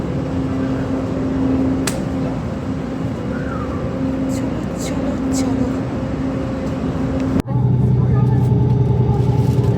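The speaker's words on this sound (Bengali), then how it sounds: "রাস্তায় কেমন ভিড় দেখো শুধু একবার গাড়ি যাচ্ছে আর আসছে" Steady road traffic near a metro station, cars rumbling past at close to middle distance in a continuous drone, with a sharp shift in the sound partway through.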